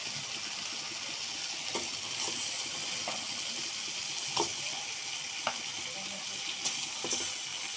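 Deshi boal fish frying in spiced oil for a bottle-gourd curry, a steady sizzle with occasional clinks and scrapes of a utensil in the pan, no voices.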